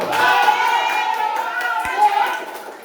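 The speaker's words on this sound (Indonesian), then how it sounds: "Tepuk tangan untuk kita semua dulu." Schoolchildren in a classroom clap together, loud and close, a brisk burst of hand claps with a few sharp individual claps, while a voice speaks over the top.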